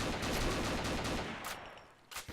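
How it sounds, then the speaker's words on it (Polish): Gunfire in the video game Combat Arms makes a dense, continuous burst of rapid shots for over a second, then fades, with a couple of sharper cracks near the end, loud and close, with no talking. "Ktoś mnie próbuje zestrzelić tam z góry, z prawej strony."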